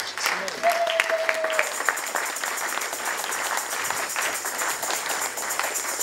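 At a New Year church celebration, a congregation claps for Jesus in a dense, continuous wash of applause. A voice and some sustained tones sit underneath the clapping.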